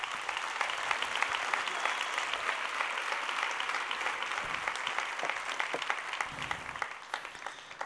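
Church congregation applauding at a Sunday service, a steady dense wash of clapping hands that fills the whole stretch without pause, loud and close.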